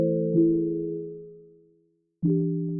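A smooth pluck synth chord rings out and fades slowly, and after a short silence a second chord begins, both clean and mellow with no talking over them.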